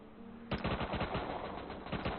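Rapid bursts of automatic gunfire from an old MMO video game, FFXI Horizon, clatter in a fast, evenly spaced rhythm after a brief pause, loud and close with no voices over it.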